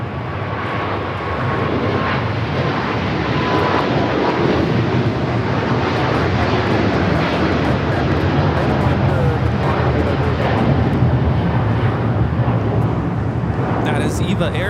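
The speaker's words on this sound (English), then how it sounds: "Viva Air Flight 5 taking off to Taipei on the 777-300ER" A Boeing 777-300ER airliner of Viva Air, bound for Taipei, takes off from Los Angeles airport, its engines a loud, steady, broad roar that holds for the whole stretch.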